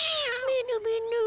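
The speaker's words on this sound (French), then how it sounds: "Minou, allez, viens mon minou." Cartoon cat meowing from the French children's animated series Martin Matin, a drawn-out, high, wavering cry lasting about a second, close and fairly loud with no talk over it.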